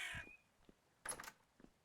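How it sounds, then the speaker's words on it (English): A bird caws inside a farmhouse in a modded farming video game, with a few harsh, scattered caws at a faint, moderate distance and no talking. "by the sounds of it does seem like a bird is trapped inside the house, or has maybe moved in"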